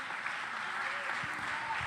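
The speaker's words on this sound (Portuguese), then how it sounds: "Mas pode aplaudir ao Senhor." A church congregation at an evangelical service claps, a steady, moderately loud wash of many hands with no pauses, continuing briefly without voices on top.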